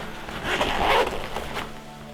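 Zipper on an inside pocket of a TideWe turkey vest being pulled open or closed, a short rasping run in the middle of the clip over quiet background.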